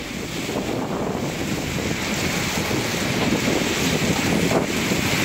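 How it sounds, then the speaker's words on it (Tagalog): Strong, steady typhoon wind roars and buffets the microphone, with rain noise underneath, during Typhoon Ofel in Cagayan. It stays loud and unbroken throughout. "ganyang kalakas ang bugso ng hangin at ulan na dala ng bagyong Ophel"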